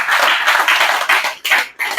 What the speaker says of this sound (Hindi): उनके लिए जबरदस्त ताली हो सर।